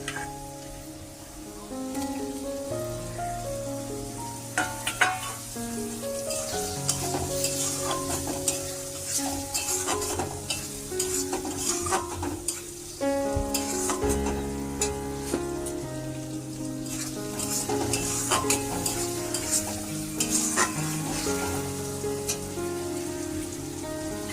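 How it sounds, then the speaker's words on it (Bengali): Tomatoes stirred and frying in a pan for dal make a steady, close sizzle with scraping stirs and clinks throughout, no voices. "এবার এটাকে ভালো করে নেড়ে চেড়ে ডালটাকে ঢেলে দেবো। তো তার আগেই টমেটোগুলো দেবো।"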